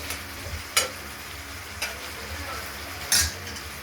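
Ridge gourd and potato frying in oil in a pan, a low sizzle broken by three sharp scraping stirs of a spatula, close and with no voices.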